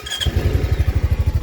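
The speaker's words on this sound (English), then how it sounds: "I'll start it up for you so you can tell what it's going to sound like" A Honda Pioneer 500 side-by-side fitted with an aftermarket air intake cranks and catches, then settles into a steady, quiet idle. The low exhaust pulses come in a close, even, throbbing rhythm.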